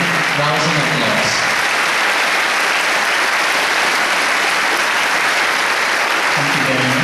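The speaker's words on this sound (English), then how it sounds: "Please give them rounds of applause." Steady, dense applause from a large crowd at a nursing pinning ceremony fills the whole stretch, loud and continuous, with a faint voice briefly audible near the start and end.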